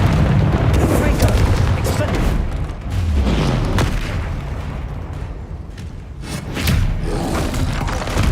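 Booming spell blasts from the Confringo casting in Hogwarts Legacy, a dense roaring rumble of repeated explosions and impacts with shouted incantations over the top.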